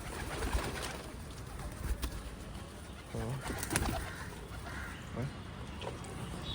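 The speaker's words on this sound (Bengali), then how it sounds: "সব পায়রাই চলে এসছে" King pigeons coo around their coop as a flock comes out, soft low throaty coos repeating close by over some background rustle and noise.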